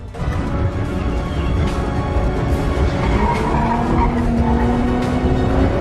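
Car tires skidding and squealing during a Fast and Furious film chase, loud and continuous for about six seconds, with a rising tonal screech over dense engine and road noise, and no talk.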